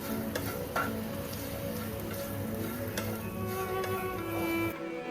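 Grated fresh coconut is stirred into hot kachori filling in a pan. A steady low sizzle runs under occasional soft scrapes and taps of the spoon, close up and fairly quiet.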